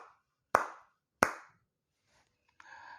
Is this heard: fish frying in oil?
no